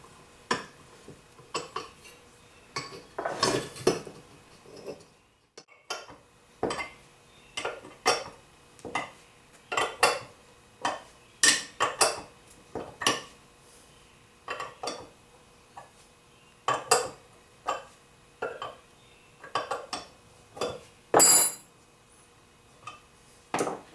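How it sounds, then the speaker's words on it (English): Metal clinks and taps ring out as nuts are doubled up on 8mm studs on a Volkswagen 1915 engine project: irregular sharp clicks, close and fairly quiet, spaced over the whole stretch with brief pauses between them. "Just going to double nut this just like I did in the block there."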